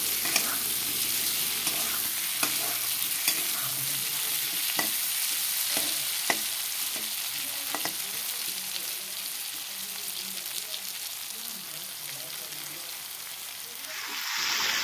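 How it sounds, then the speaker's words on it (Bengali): Potatoes and pointed gourd frying in a pan, a steady sizzle close by with repeated sharp scrapes and clacks of a spatula stirring, longer scraping near the end. "পটলগুলো লাল করে ভেজে নেওয়া হবে।"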